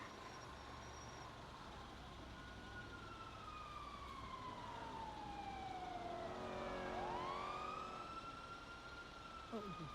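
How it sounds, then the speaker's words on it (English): Wailing emergency sirens rise and fall in the distance, their pitch sweeping and shifting as they pass over low city traffic rumble. "So they're just driving around with their sirens on now."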